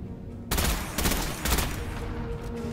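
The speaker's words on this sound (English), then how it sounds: "You just start shooting at people?" Gunfire in the video game Destiny 2 during a co-op campaign: a sudden dense burst of rapid automatic shots that swells in a few loud waves and keeps rattling steadily to the end.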